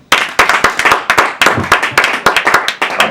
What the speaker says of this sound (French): Mais par applaudissement, qui me connaît?